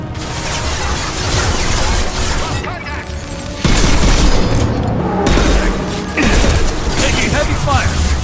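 Heavy gunfire and booming impacts in Mass Effect 2 come as loud bursts of crashes and mechanical clatter during a prison-block fight. Stretches of combat noise break off and then resume.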